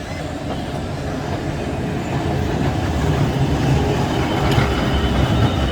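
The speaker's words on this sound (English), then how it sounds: "Oh, this is great. A heritage tram." A heritage tram carrying passengers in Blackpool rumbles past close by, with rolling wheel noise and rail clatter building steadily louder.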